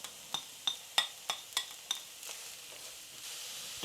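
Onions and shredded carrots frying in a pan for homemade spaghetti bolognese. A soft sizzle runs under a string of sharp utensil taps and scrapes that come about every third of a second, then settles into a steadier hiss.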